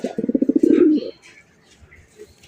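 Rajgolla pigeon cooing close by, a rapid series of throaty pulses rolling into a sustained coo, then quiet with faint chirps in the background.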